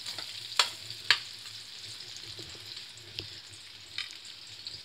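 Onion frying in a pan for a black-eyed bean curry, a quiet, steady sizzle with a couple of sharp utensil knocks early on and a few softer clicks later.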